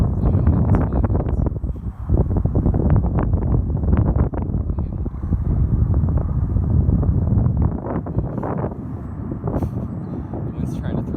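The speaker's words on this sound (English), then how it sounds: "The wind's trying to throw it over." Strong outdoor wind buffets the microphone in loud, continuous rumbling gusts throughout while a small UAV flies, and voices talk intermittently underneath.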